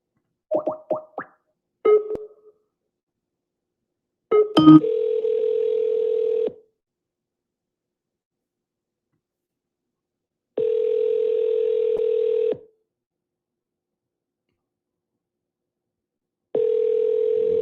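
A telephone callback starts with a few quick dialing blips and plops, then a steady dial tone sounds in long, even bursts separated by silent gaps, clear and alone.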